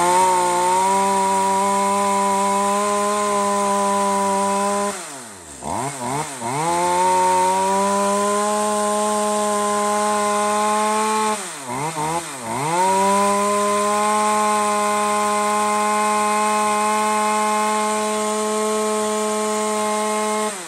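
A used Japanese chainsaw fitted with a new chain runs steadily and loudly at a constant high pitch, throttling down twice in brief dips before revving back up to a sustained whine, with no voices.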